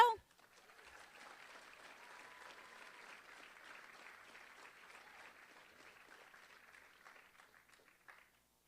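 Faint, distant applause from the audience at a middle school promotion ceremony, a soft, even clatter of many hands that holds steady for several seconds and then tapers off.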